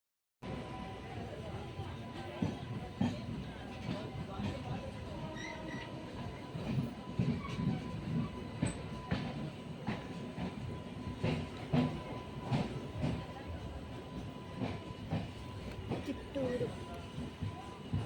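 A train rolls into Kittur railway station, a steady rumble with rail clatter and clicks running throughout, close and fairly loud, with voices talking over it.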